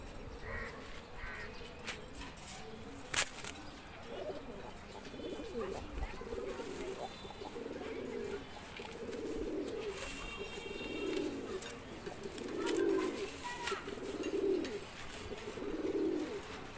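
Pigeons cooing in a coop with a female inside, soft repeated rhythmic coos at a moderate distance, accompanied by faint background rustling and a few sharp clatters.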